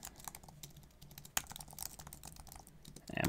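Rapid, irregular clicking of keys on a computer keyboard as an email address is typed in, quiet and close with a brief louder tap partway through.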